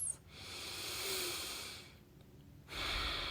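Breath flows in and out during a yoga seal pose, a soft airy inhale, a brief pause, then another breath beginning, close and quiet with no speech.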